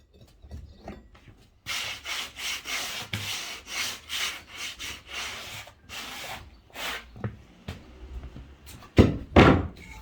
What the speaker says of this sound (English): this is where the crowbar comes in. So really just lever that to get it as tight as possible.